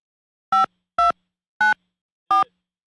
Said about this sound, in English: That's how you dial a number.